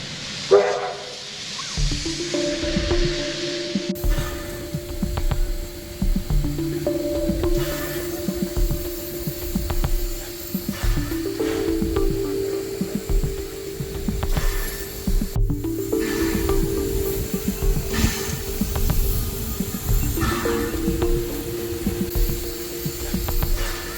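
A heritage steam locomotive run by a Victorian preservation railway, hissing steam continuously at close range, with steady tonal whistle-like lines and mechanical rumble sustained throughout and no talk.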